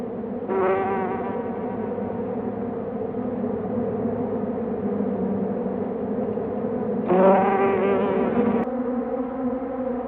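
A leafcutter bee hums steadily as it carries a slice of leaf into its nest tunnel, its buzz swelling louder twice, briefly near the start and again toward the end.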